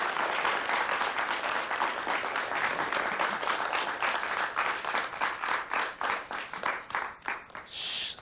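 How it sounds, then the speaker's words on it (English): A studio audience at a 1998 kids' television talk show bursts into sustained applause, dense clapping that stays loud and steady before thinning into scattered claps near the end. "Give yourselves a big round of applause for coming."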